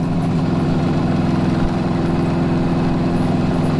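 An old motorcycle engine idles as it warms up, with a steady, loud, close chugging drone that runs evenly throughout, with no voices.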